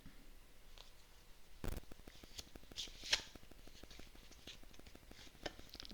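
Tarot cards shuffled for a three-card reading, producing a soft rapid riffling patter with a sharper flurry midway, close and fairly quiet, no voices.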